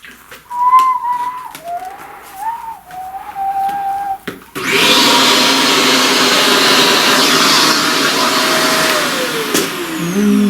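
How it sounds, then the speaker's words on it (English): A vacuum cleaner switches on abruptly after a stretch of quieter sounds and high whistling tones, then roars loudly and steadily for several seconds with a broad airy whine. "Let's vacuum that."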